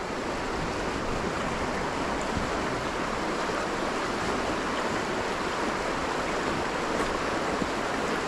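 Rushing water pouring over a swollen river weir after heavy rain, a dense, loud, unbroken roar that holds steady and close throughout.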